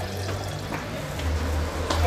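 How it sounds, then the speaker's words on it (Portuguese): Cassava cooking water poured into a blender, a steady continuous liquid pour with a low rumble, close and fairly loud for about two seconds with no talking. "Pode adicionar um pouco da água mesmo que cozinhou a mandioca."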